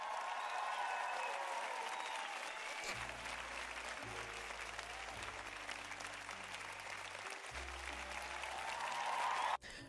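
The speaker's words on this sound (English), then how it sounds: "Let's give them a round of applause." A sustained round of applause from an audience for a tabletop role-playing game homebrew presentation, dense steady clapping that runs nearly ten seconds before cutting off abruptly.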